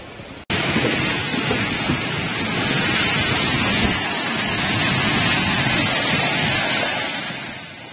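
Heavy rain pours down in a thunderstorm during severe storms in southern Italy, a dense, steady roar of broadband noise with low rumbling underneath, loud and continuous after a brief quiet start, with no voices.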